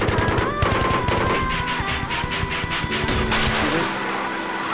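Rapid bursts from a Viper attack helicopter's nose gun in Battlefield 3, loud dense automatic fire in stuttering volleys over a steady rotor drone.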